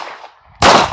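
One sharp, loud gunshot from a CNC Gunworks Akira 2011 pistol cracks out after a quiet moment and decays quickly outdoors.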